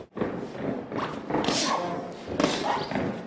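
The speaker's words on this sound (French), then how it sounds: "On entend l'impact des coups" Several dull, heavy thuds of punches landing on a fighter's body, irregularly spaced, close up amid a noisy, echoing room.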